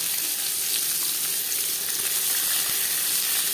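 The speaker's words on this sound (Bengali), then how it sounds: "লঙ্কার সাথে 15-20 সেকেন্ড পাঁচফোড়ন তেজপাতা ভেজে নেওয়ার পর দিয়ে দেবো পেঁয়াজ কুচি" Chopped onions fry in a little oil with panch phoron, bay leaf and chilli, a dense, even crackling sizzle running steadily and close throughout.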